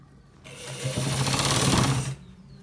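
A sewing machine runs in one short, steady burst while stitching a designer shirt, its fast needle chatter and motor hum close and alone, starting and stopping sharply.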